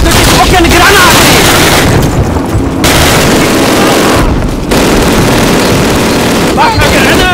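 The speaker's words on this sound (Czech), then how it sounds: "Hoďte do těch oken granáty!" Loud, continuous grenade explosions and battle din in Call of Duty, with heavy booms and rumbling washing over one another throughout, while voices shout over the noise.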